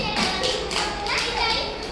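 Preschool children clap together in a classroom fruit-recognition game, a burst of sharp, fairly loud claps in an uneven rhythm with children's voices mixed in.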